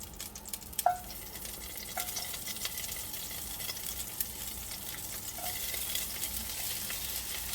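Broccoli sizzles steadily in a hot pot while a utensil stirs and scrapes against the metal, with a few sharp clinks rising above the continuous frying hiss.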